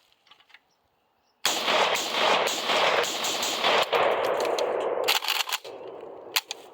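A PSA AKP AK-47 style pistol fitted with a JMAC Customs flash hider fires a long, loud automatic burst outdoors, followed by a few sharp single and short bursts with reverberant echoes trailing off.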